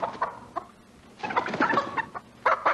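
A chicken clucks in short, uneven bursts of throaty clucks, spaced by brief pauses and fairly close.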